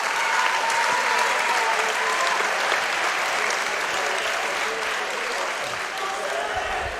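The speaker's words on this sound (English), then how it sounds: "Give me one more round of applause for Nick and Aiden." A crowd at a boxing event gives a sustained round of applause, dense loud clapping that continues evenly for several seconds, with voices faintly mixed in.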